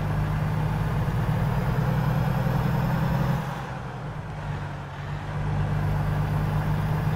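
Volvo VNL 2023 truck engine idling in American Truck Simulator, a steady low diesel rumble that dips briefly midway and then returns, with no talking.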